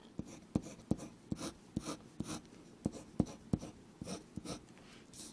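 A Waterman Carene fountain pen with a broad nib scratches across paper in short, rhythmic strokes, each a soft close scrape, with no talk.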